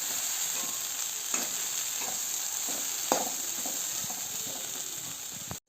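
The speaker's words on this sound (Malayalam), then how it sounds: "ഇനി പയറിലേക്ക് ആ മസാലയൊക്കെ ഒന്ന് നല്ലതുപോലെ പിടിച്ച് ഒന്നുകൂടെ നമുക്ക് ഇളക്കി" Beans coated in masala are stirred in a frying pan, with a steady sizzle and hiss throughout and occasional scraping clicks of the spoon, close and moderately loud.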